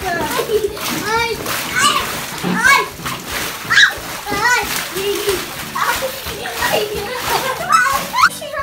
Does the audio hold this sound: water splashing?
yes